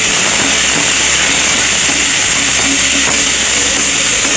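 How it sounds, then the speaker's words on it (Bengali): Onion fries in hot oil in a pan for a Bengali-style silver cup fish curry, a loud, constant hissing sizzle that stays even throughout with no voices. "দিয়ে পেঁয়াজটাকে ভেজে নেব।"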